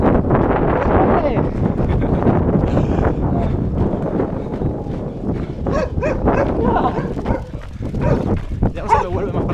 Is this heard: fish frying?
no